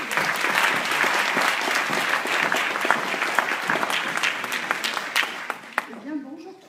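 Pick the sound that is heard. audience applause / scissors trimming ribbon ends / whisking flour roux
audience applause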